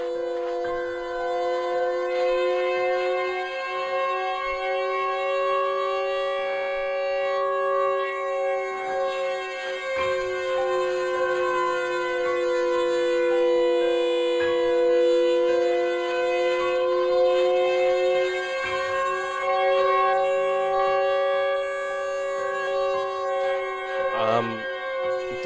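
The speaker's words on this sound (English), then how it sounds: "itu bunyi siren ya." A wailing siren in the Siren Head video game, a sustained, harmonically rich tone that wavers slowly in pitch, loud and continuous throughout, with faint background sounds beneath it.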